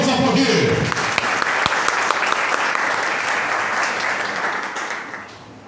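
An audience breaks into sustained, dense applause to welcome author Magno Martins at a book-signing night in Carnaíba for his book Leões do Norte. The clapping is loud from the start and slowly tapers near the end, with some voices mixed in.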